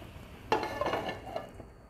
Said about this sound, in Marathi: बघा आता यावर आहे ना आपण झाकण देऊन ठेवणार आहोत